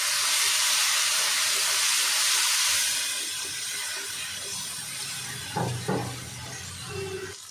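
A spice paste of cumin, mustard, bay leaf, dried red chilli and ginger hits hot oil in a pan for a Bengali bata fish dish, giving a loud steady sizzle that slowly eases, with a few knocks near the end.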